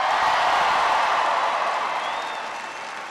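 A large crowd at a political speech in Omaha claps and cheers in a dense, steady wash of applause that slowly fades toward the end.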